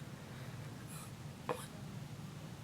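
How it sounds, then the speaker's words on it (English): A single short hiccup from a woman breaks an otherwise quiet room, with a faint earlier breathy catch just before it. "hiccups are ridiculous"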